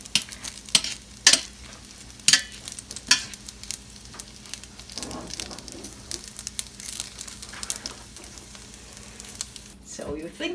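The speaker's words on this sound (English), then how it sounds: "So you think that we're just browning the dumplings" Potsticker dumplings sizzle and fry in a pan as they brown, a steady crackle under occasional sharp clinks and scraping stirs, with people talking over the cooking.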